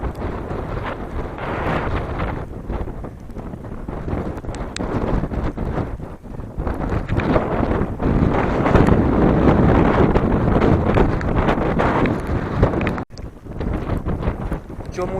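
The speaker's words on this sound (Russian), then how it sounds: "Ветер сильный, накрапывает дождик" Strong wind buffets the microphone of a cyclist riding along fields on a drizzly day, a loud, continuous low roar with gusty swells and brief dips, steady through the whole stretch.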